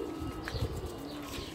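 Pigeons coo softly in a breeding loft where chicks are beginning to hatch, with a few low, close coos over a quiet hum.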